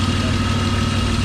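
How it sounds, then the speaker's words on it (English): A BMW E36 convertible engine idles with a rough, uneven note from a vacuum leak, a steady close rumble filling the whole moment with no break. "it is idling like it's got a vacuum leak"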